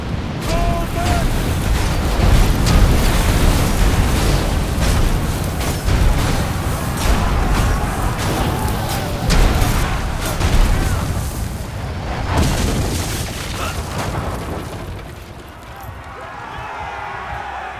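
Catapult volleys launching and exploding in the Middle-earth: Shadow of War video game, a continuous loud battle din of booms and rumbling impacts with shouting voices mixed into the chaos.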